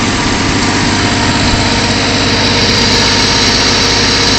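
A 1954 Chevrolet 210 engine fitted with a Holley 64-7470 carburetor and heat-activated choke, recently tuned, idles steadily and loudly, with an even, rumbling low-frequency pulse and no voices.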